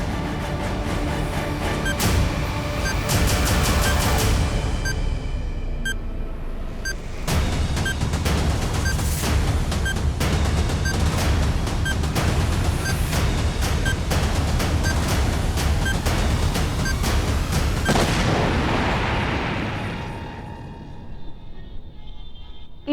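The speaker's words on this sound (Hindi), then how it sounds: "पर जो तुम ना बोल पाए वो अब ये बम विस्फोट बोलेगा।" A dramatized bomb explosion in a crime drama, a dense, loud roar of rumbling blasts with rapid repeated cracks and booms that runs on and then fades near the end.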